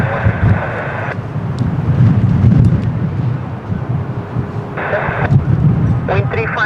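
A jet airliner rolls for takeoff at windy Lisbon Airport on runway 02, a deep steady engine rumble mixed with wind, while air traffic control radio chatter cuts in and out over it.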